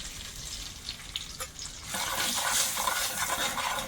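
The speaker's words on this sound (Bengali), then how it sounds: "তেলের মধ্যে একটু শুকনো লঙ্কা তেজপাতা গোটা দিয়ে" Dried red chillies and bay leaf hit hot oil in a pan, with a soft background hiss that jumps into a louder, steady sizzle about halfway through.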